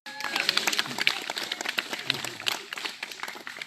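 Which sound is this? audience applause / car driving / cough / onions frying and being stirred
audience applause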